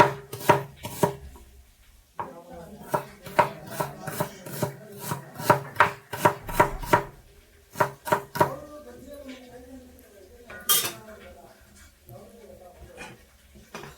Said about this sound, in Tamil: 2 சௌத்தைக்காயும் வெங்காயத்தையும் பொடுசாக கட் பண்ணிவிட்டு தயிர் பச்சடிக்கு ரெடி பண்ணிப்போம்